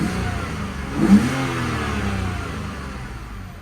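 A BMW 328i engine revs up as the accelerator is pressed, a steady close mid-pitched hum that swells briefly, then settles back.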